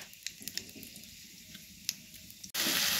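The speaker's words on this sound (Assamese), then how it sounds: "আলুখিনিও অকণমান ভাজি লৈছোঁ" Potatoes sizzle quietly in hot oil with scattered small pops while frying for a paneer curry, then a sudden loud hiss bursts in near the end.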